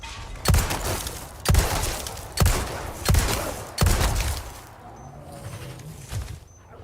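Pistol fire in the video game Resident Evil 4 Remake, aimed at attacking dogs: five loud, sharp shots spaced roughly a second apart, each with a short ringing tail, then a quieter stretch of game ambience with faint chirps.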